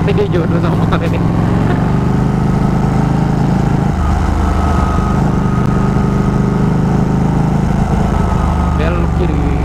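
Ducati Panigale sport motorcycle engine on a road ride, a loud steady drone with a shift in pitch partway through, running continuously beneath wind buffeting.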